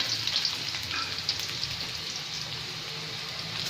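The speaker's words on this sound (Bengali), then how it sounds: "এখানে আমি দিয়ে দিচ্ছি আগে থেকে ভেজে রাখা গোটা কিছু রসুন" Whole garlic cloves, fried ahead of time, sizzle in hot oil in a pan while a mutton curry is being made. A steady, close frying crackle with faint pops runs alone throughout.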